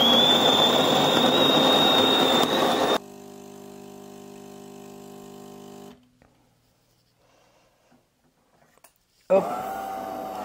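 A De'Longhi espresso machine brews espresso through a filter cartridge. Its pump gives a loud, close whine for a few seconds, then drops to a lower hum, falls nearly silent, and briefly surges again at the end.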